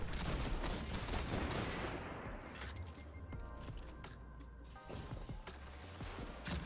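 Rapid gunfire from the Destiny 2 video game rattles in dense bursts, with sharp individual shots and clatter continuing throughout at moderate, fairly quiet level.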